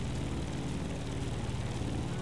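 An airplane flies in the video game The Crew Motorfest, its engine giving a steady, even, close drone without a break.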